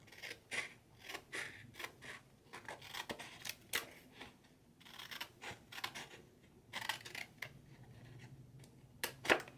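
Scissors snip through paper for an accordion embellishment box, a run of short close crisp cuts in steady bursts with brief pauses, ending in a sharper snip.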